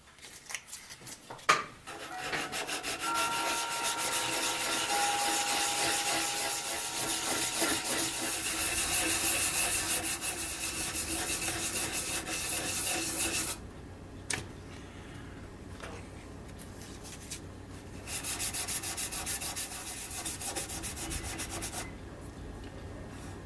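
Close, steady rubbing of 1000 grit sandpaper over filler putty on a model ship. The scratchy strokes run continuously, with a quieter stretch midway and a brief pause near the end, and no talking.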